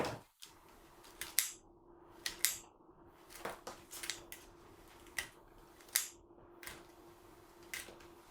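Scissors snip flower stems for a summer wreath, a series of sharp, close clicks and snaps at an irregular pace, with short gaps between cuts and no talking.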